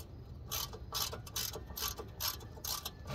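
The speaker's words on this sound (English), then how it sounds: "So we'll get these last two bolts out, drop this pan the rest of the way down." A hand ratchet clicks in quick, steady bursts while backing out the last transmission pan bolts on an Impala SS in a driveway, loud and close, with a faint low hum underneath and no talking.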